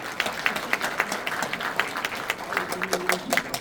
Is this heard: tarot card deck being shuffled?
no